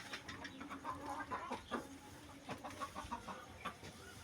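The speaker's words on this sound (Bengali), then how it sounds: "আমার মোরগটা খুব তরতাজা" A rooster on a small backyard poultry farm gives a run of soft, repeated clucks, fairly close and faint against quiet outdoor background.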